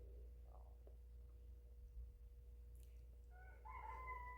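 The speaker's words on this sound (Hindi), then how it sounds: "ये मुर्गी का आवाज़ भी आ रहा है।" A rooster crows faintly in the distance at a zoo in Saudi Arabia, rising near the end over steady low background hum and ambient noise.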